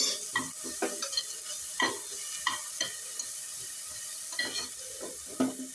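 Curry leaves sizzling in hot oil as a horsegram dish is cooked, with a steady bright fry hiss broken by repeated scraping stirs of a spoon against the pan, close and fairly quiet.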